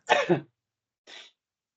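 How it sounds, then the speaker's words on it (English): A single throaty cough burst, followed after a brief pause by a smaller, softer cough; close and isolated in silence. "Good job getting that cough out"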